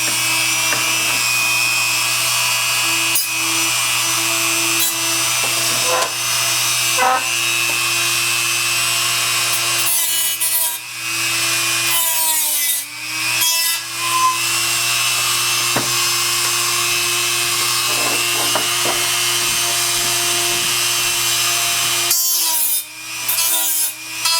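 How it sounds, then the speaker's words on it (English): A Dremel rotary tool grinds on parts of a Philco 84 radio, a steady close whine with brief pauses and pitch dips as the bit bites, running nearly continuously without speech. "So I'm going to use my Dremel and just take my time"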